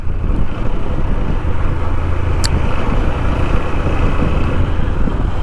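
A 125cc motorcycle rides in third gear, its engine giving a loud, steady, close rumble throughout with a brief high click midway.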